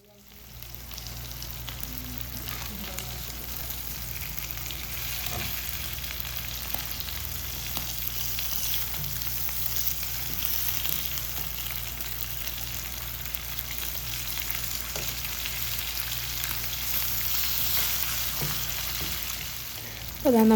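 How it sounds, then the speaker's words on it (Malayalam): Fish frying in a pan with curry leaves, a continuous close crackling sizzle that holds steady for the whole stretch, with faint stirring sounds. "അപ്പോൾ അതാ നമ്മുടെ മീനൊക്കെ ഇവിടെ ഫ്രൈ ആയി റെഡി ആയിട്ടുണ്ട്"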